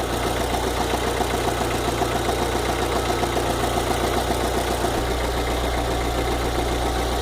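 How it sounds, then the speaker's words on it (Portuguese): A 2009/10 VW Fox engine idles with a rapid, regular knocking tapping over a steady hum, close and moderately loud; the low drone shifts pitch slightly partway through, with no voices. "Vejam bem o barulho desse motor."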